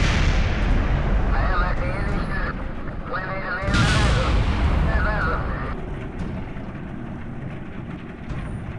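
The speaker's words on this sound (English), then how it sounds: "Okay, it's all fine, you can stop exploding now, you really can stop." Rumbling explosions in the game Kerbal Space Program as a command pod crashes: loud bursts and crackling booms over several seconds, fading toward the end, with game sounds layered throughout.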